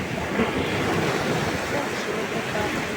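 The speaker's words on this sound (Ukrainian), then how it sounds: "Ну чого ми любимо це море, чого ми любимо цю водичку" Sea waves washing onto a beach, a steady broadband roar of surf mixed with wind buffeting the microphone, continuous and fairly loud with no distinct breaks and no one talking.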